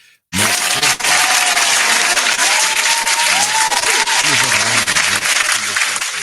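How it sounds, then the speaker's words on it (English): Loud, constant crowd applause with cheering used as a radio broadcast sound effect, bursting in abruptly after a brief quiet start and staying dense and full throughout, with faint voices and whoops mixed in. "Round of applause."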